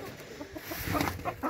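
Hens cluck and murmur in a backyard aviary, several birds giving short, irregular calls at close range over a steady rustling background.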